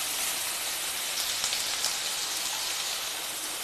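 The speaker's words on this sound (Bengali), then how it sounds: "নাড়িয়ে চাড়িয়ে 2 মিনিটের জন্য ভেজে নেব।" Finely chopped onion fries in hot oil in a pan, a steady close hiss and crackle of sizzling with no talking.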